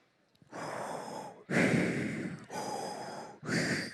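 A person imitates Darth Vader's respirator breathing: four heavy, hissing breaths in a slow in-out rhythm, close to the microphone and loud, with no speech.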